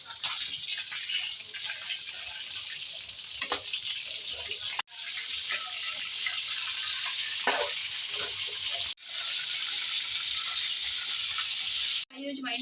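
Marinated fish sizzles steadily in hot oil in a pan, a loud, continuous hiss broken by brief pauses when the pieces are turned, with faint clatter and a voice now and then.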